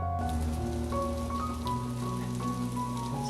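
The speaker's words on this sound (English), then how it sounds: "Now we're going to pan fry the cod pieces and the scallop." Cod pieces with skin on and a scallop sizzle steadily in a hot frying pan, a continuous close crackle with a few sharper pops, with no talking over it.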